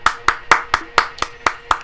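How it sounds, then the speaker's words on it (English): Applause sound effect in the video game Rainbow Six Siege, heard as eight evenly spaced sharp claps in a steady rhythm, close and clear with nothing else over it. "Applause, I guess, guys."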